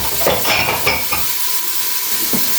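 Onions frying in oil for a rice croquette dish give a loud, close sizzle, with a few clinks and stirring scrapes of a utensil in the pan over the first second.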